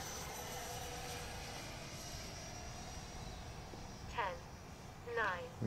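Eachine F-18 50mm EDF RC jet flying outdoors, a faint steady ducted-fan whine in the distance, with a few brief chirpy sounds near the end.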